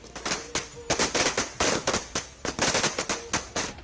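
Rapid bursts of Diwali firecrackers popping and cracking loudly, irregular and overlapping, a nearly continuous crackling barrage.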